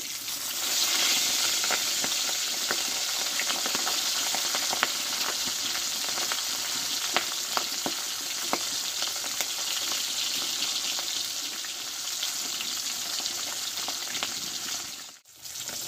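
Katla fish fries in hot oil with a steady, dense sizzle that carries on throughout, marked by occasional utensil clicks as the fish gets turned over, with a brief dip near the end.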